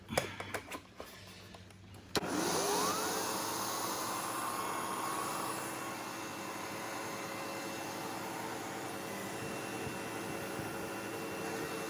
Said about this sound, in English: So I can use this for the old one to test the turbo brush.